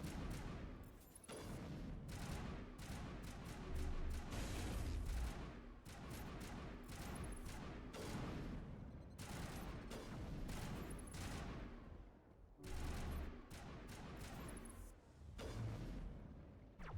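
Rapid bursts of gunfire from Mass Effect Legendary Edition combat, dense clattering volleys separated by brief pauses, loud and close, with booming low impacts scattered throughout.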